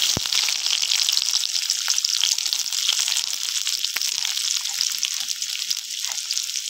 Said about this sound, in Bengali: কাঁকড়ার ঝাল বানানোর জন্য এবার আমি তেলের মধ্যে 5 ফোড়ন দিয়ে দেবো।